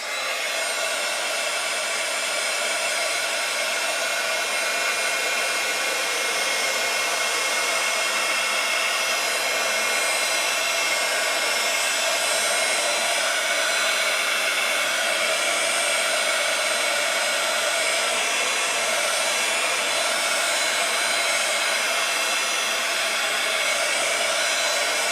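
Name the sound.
drying paint on a journal page with a hair dryer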